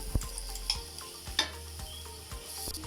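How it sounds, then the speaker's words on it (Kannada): Ginger garlic paste fries with onions in a pan for Arabian-style chicken mandi: a constant close sizzle punctuated by regular spoon scrapes and taps of stirring. "ಬ್ರೌನ್ ಕಲರ್ ಬರೋವರೆಗೂ ಚೆನ್ನಾಗಿ ಫ್ರೈ ಮಾಡ್ಕೋಬೇಕು"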